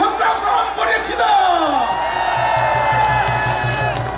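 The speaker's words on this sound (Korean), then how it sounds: "큰 박수 한번 해봅시다!" A political rally crowd applauds and cheers at close range, a dense wash of clapping and whoops that stays steady and loud throughout, with voices shouting inside the noise.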